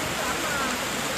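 Steady rain pours down at an outdoor burial of a baby, a dense, even hiss with no talking.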